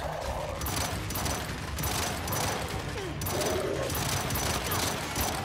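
Hammerburst rifle firing in Gears 5, a dense run of burst gunfire mixed with other battle noise, loud and continuous throughout.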